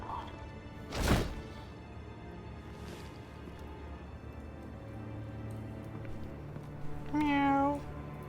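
A single cat meow rises and falls near the end in the video game Batman: The Telltale Series, preceded by a sharp thud and a softer knock over a low ambient hum.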